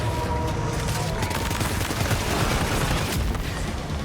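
Gunfire from the video game Death Stranding 2 rattles out as a dense, continuous burst of rapid shots, loud and steady for several seconds with no clear pauses.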